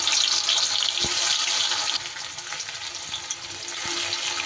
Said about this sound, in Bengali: তেল ভালো করে গরম হয়ে গেলে আমি পনিরগুলোকে ভেজে নেব।